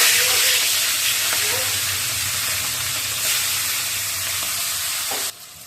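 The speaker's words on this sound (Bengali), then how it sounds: "এবার মাছগুলো ভেজে নেব।" Fish frying in oil in a wok, making a loud, steady hissing sizzle up close that drops sharply in level just before the end.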